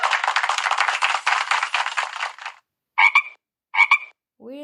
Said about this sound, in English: Where is a frog?